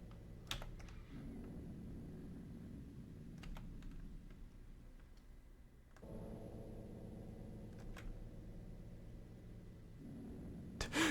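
Keys on a computer keyboard clack in quick bursts during play of the FMV game D, soft and close, separated by pauses, with a low hum beneath.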